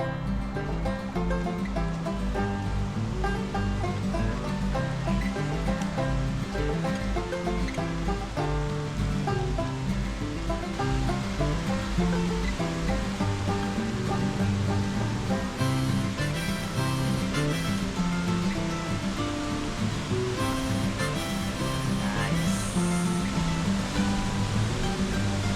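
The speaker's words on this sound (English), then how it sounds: "it's just a short walk down the path to the waterfall" Cascada El Pavon, a Costa Rican waterfall running very high after recent rains, roars steadily and loudly. The broad rushing wash of falling water holds without a break, and no voices are heard.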